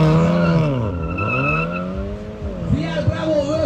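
A VW Golf GTI and a Golf R run a quarter-mile drag race. Loud engine and tyre noise swells and sweeps in pitch under continuous crowd and announcer talk.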